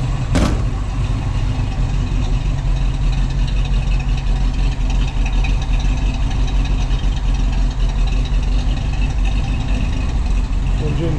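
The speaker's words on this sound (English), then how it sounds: "Engine sounds like it should. No knocking or ticks." The V8 of a restored 1970 Ford Mustang Boss 302 Sports Roof idles with a smooth, even low rumble that holds steady throughout, close by, after a brief click at the start.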